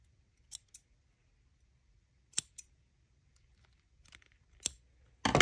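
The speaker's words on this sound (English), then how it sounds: "And then we'll cut all these extra pieces." Scissors snip through leftover yarn ends on a handmade pom pom for a wreath, several short crisp cuts spaced apart in a quiet room, close and fairly soft, with a louder rustle at the end.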